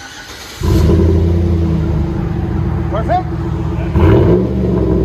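A 2009 Chevy Silverado's 5.3L V8 with the muffler cut off and a Flowmaster Outlaw exhaust starts abruptly and holds a loud, close, throaty idle, with a brief rev swell near the end; a voice speaks briefly over it.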